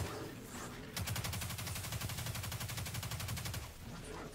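A grenade launcher-style weapon fires in the Destiny 2 beta shooter, a fast even train of punchy shots rattling for about two and a half seconds after a quiet start, fairly faint overall.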